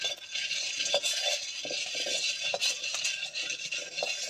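A wooden dhendo ladle, called kyaba, stirs maize roasting in a pan, making a continuous dry scraping rattle of kernels with irregular small knocks. The sound stays close and even, with no talking.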